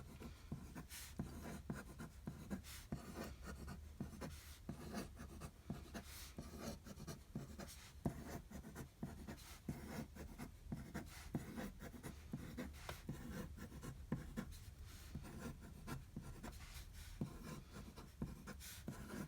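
A pen scratches steadily on paper for about twenty seconds, continuous close strokes drawing shapes in quick succession, with no voices.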